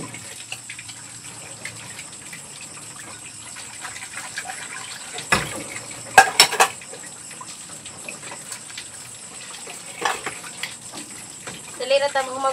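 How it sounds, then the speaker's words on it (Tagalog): Running water gushes from a tap while dishes and plates are washed at a sink, a steady wash with brief splashes and clatters, faint voices over it. "Dali na tamo magugas sa plato"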